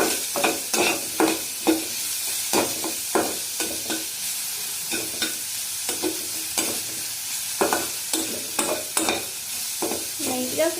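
Ginger, green chili and coriander paste frying in a pan for aloo curry, a continuous close sizzle broken by repeated scraping stirs in an irregular rhythm, with no voices.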